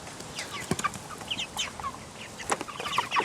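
Cornish Cross meat chickens clucking and murmuring in a flock, with scattered short calls and a sharper squawk now and then, close by over a quiet background.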